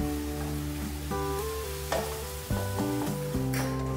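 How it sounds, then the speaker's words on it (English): Pureed garlic sizzles as it is mixed into a red chili masala in a hot pan. A steady frying hiss runs under a few stirring scrapes, with a tonal musical backdrop throughout. "add the pureed garlic and mix well"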